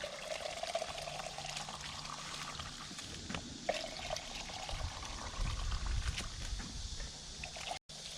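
Plain water poured into a container to top up diluted fertilizer for garden cucumbers, a steady trickling, splashing pour running continuously at close range with no talk.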